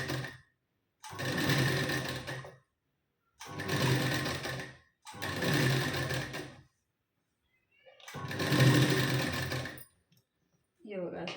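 A sewing machine stitches a sleeve onto the back piece of a blouse with a half-inch seam margin, running in four loud, steady whirring bursts of about two seconds each, separated by silent pauses, close up.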